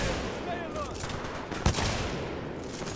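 A single sharp gunshot cracks out amid a loud, steady battlefield roar in the shooter Titanfall 2, with faint whistling tones early on and no talking.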